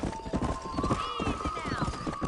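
Hoofbeats of a trotting horse in the Red Dead game, steady clip-clop under a whinny and an upbeat music track, with a voice calling out briefly over it.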